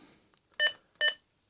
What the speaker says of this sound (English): It just beeps when you fire it up